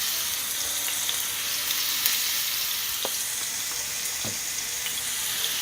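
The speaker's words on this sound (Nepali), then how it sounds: "तेल तातेपछि मैले यसमा फुराएँ 1 ठुलो चम्चा लसुन अदुवाको पेस्ट" Garlic-ginger paste frying in hot oil in a pan, a steady close sizzle throughout with a few faint clinks, no talking.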